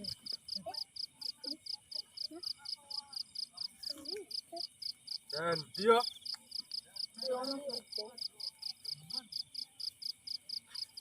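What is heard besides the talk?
crickets chirping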